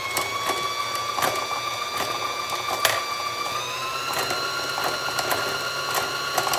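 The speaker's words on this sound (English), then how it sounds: "hold the thread and press the pedal and it's going to start filling up the bobbin" A sewing machine's bobbin winder spins thread onto a bobbin with a steady whirring hum and rising tones, punctuated by faint rhythmic mechanical clicks, close and continuous with no talking.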